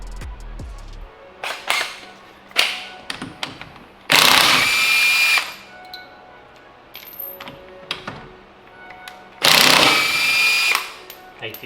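A power tool spins up in two long loud whirring bursts while a brake caliper comes off a 2003 Mustang Cobra, with metallic clanks and tool knocks between them.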